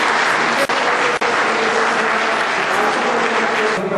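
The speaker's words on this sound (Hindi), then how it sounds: "तालियों से स्वागत करें।" Steady audience applause fills a ceremony hall, dense clapping continuing evenly throughout with a couple of brief dips.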